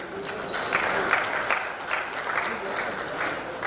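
A panel discussion audience gives a big round of applause for a former BJP national vice president, sustained, even clapping with rhythmic pulses throughout.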